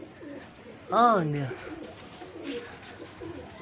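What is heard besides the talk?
pigeons cooing on a rooftop loft in Faisalabad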